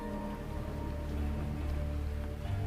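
Steady rain falls at night as a dense, continuous hiss of drops on surfaces, even and unbroken, with a low droning undertone and no voices.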